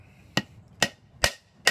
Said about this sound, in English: I'm using a rubber mallet to tap it in.